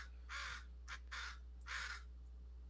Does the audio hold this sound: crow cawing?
yes